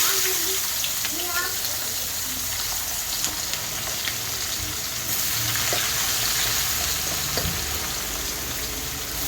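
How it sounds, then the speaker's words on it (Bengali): Chopped onions fry in hot oil with whole garam masala, cinnamon and cumin, giving a steady, fairly quiet sizzle with occasional clicks of stirring and a voice talking intermittently over it. "পেঁয়াজ কুচিগুলো একটু লাল লাল করে ভেজে নেব।"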